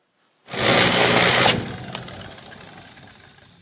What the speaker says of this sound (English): I'll show you a clip my friend sent of a hand grinder, DeWalt hand grinder he bought.